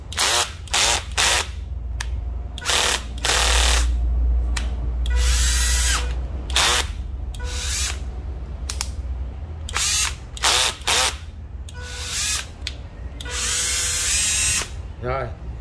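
A Nati 14V cordless drill runs on its clutch slip setting in repeated short bursts, each ending in a rapid ratcheting clatter, close and loud with pauses between.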